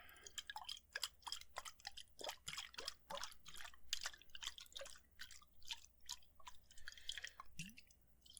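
Liquid is stirred inside a glass bottle in soft, close, quiet bursts of wet clicks and small drips that repeat unevenly for several seconds.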